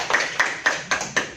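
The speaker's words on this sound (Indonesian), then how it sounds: "tepuk tangan untuk kita semua" A high school class of students claps together on cue, about five sharp, evenly spaced claps in quick unison rhythm, close and fairly loud.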